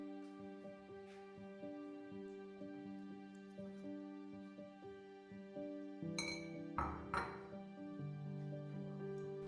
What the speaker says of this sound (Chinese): 这里有2瓶玻璃瓶装的水，